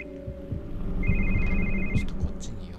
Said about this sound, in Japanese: あ、やっぱ電話鳴らした方がいいか